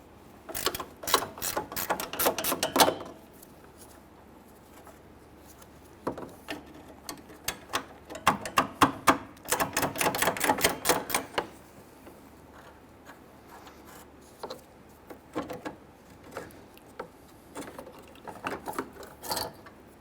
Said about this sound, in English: I'm going to use my 13mm gear wrench because we can't get a socket through here due to the header panel